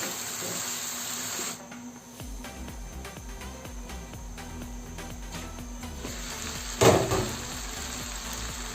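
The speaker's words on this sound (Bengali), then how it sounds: "এভাবে কমপক্ষে আমি 4 মিনিট মাংসগুলোকে কষিয়ে নিয়েছি।" Chicken pieces sauté in a pot with a steady, close hiss and sizzle throughout, a brief lull near the start and a sharper burst of crackle near the end, with no voices.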